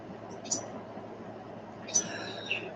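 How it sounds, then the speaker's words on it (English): Birds chirping outdoors, two faint high chirps standing out over a low steady background hum. "Can you hear them birds?"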